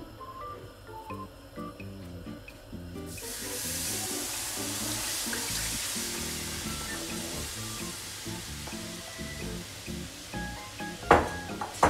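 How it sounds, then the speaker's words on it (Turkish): Sugar syrup poured over pan-roasted halva, a hissing, sizzling rush of liquid starting after a few seconds of quieter clatter and lasting steadily, ending with a couple of sharp clinks. "Şimdi şekerli suyumu döküyorum."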